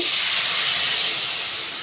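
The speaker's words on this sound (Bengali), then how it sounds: "জিরে ধনে আর সামান্য একটু শুকনো লঙ্কার গুঁড়ো দিয়েছি।" Cumin, coriander and a little dry chili powder hit hot oil over a low flame, a loud dense sizzling hiss that fades slightly over a short moment.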